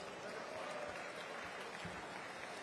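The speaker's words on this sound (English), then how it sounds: "Big round of applause for the band." An outdoor crowd at a mayor's public event claps for a live band, a steady, dense patter of applause heard throughout at even volume, with faint murmuring beneath it.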